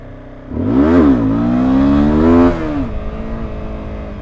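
Motorcycle engine revving hard during a wheelie attempt, a close, loud rising and falling whine that climbs in pitch twice, then settles to a steadier idle-like drone.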